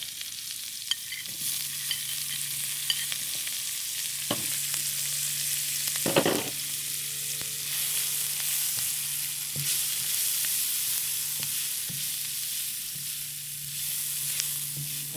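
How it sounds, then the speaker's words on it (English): Garlic, ginger and onion fry in shrimp-flavored oil for an asparagus stir fry, giving a steady broadband sizzle with a few scraping stirs and one louder clatter midway. "You're going to put that garlic and gingers in it first, like that, and the onion."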